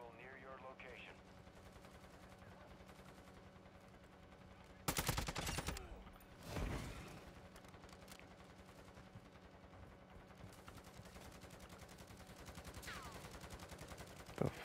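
In Call of Duty MW2 DMZ, a loud close burst of gunfire breaks out, followed by a second shorter blast, then a faint crack near the end, over a low steady game hum with brief talk.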